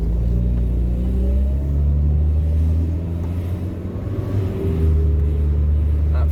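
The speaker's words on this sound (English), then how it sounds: "That 3-speed ZF winding down the gears very subtly." A 1990 car with a 3-speed ZF automatic gearbox shifts down as it slows, a loud steady engine drone with smooth changes in pitch and a brief dip before the rumble returns.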